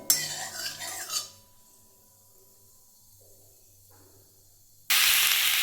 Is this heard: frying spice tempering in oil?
yes